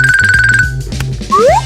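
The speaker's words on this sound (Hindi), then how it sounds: "ऐसा लगता है ईवा का फोन" A phone ringtone plays a loud, close, rapid repeating electronic melody, followed by short rising synthetic chirps.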